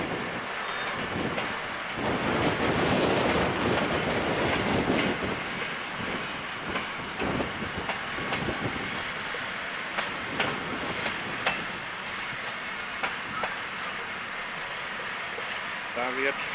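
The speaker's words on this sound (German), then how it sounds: "fährt nun wieder mit einem Teil des Zuges nach vorne" Steam locomotive 344 pulling part of its train forward during winter shunting in Thuringia: a steady rolling rumble with a louder swell early on and scattered clicks and clanks, under some wind noise.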